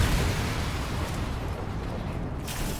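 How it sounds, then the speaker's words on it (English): Devil May Cry 5 Kalina Ann charge move setting off a big explosion, a heavy low rumbling roar that stays loud and then slowly fades over a few seconds, with no voices. "Just makes big explosion."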